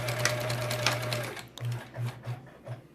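A sewing machine hums in a steady run, then stops and restarts in several short bursts, close by and fairly loud.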